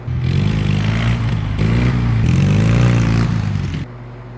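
The Stump Hauler's engine revving hard during a wheelie, a loud close buzzing drone with rising and falling pitch over a few seconds, then dropping off sharply.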